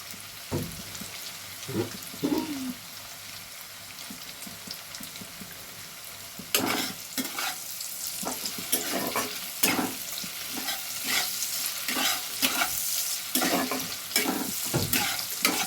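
Onion stirred and fried in very hot oil: a continuous crackling sizzle with repeated scraping strokes of a spatula in the pan, growing busier and louder in the second half.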